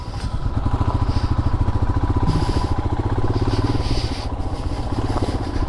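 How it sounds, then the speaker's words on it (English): A Royal Enfield GT650 motorcycle engine idles nearby with a steady, loud, rhythmic chug that keeps an even pace throughout. "He knows the motorcycles and the sounds of them"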